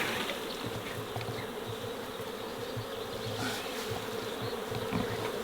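Swarm of bees buzzing steadily and densely all around, a loud continuous drone of many wings with individual bees passing close now and then, no voices.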